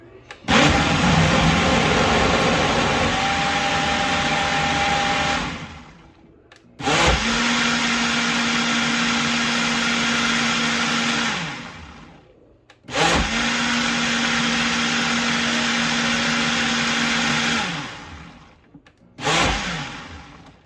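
A blender runs in three long bursts of about six seconds each with brief pauses between, then starts a fourth; a loud, steady whirring grind.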